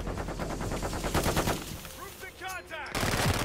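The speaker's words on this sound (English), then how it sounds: "Who just shot a full LMG clip?" A light machine gun in Call of Duty: Modern Warfare 2 fires long, rapid bursts of loud rattling shots. Other scattered gunfire and game effects follow in a busy multiplayer match.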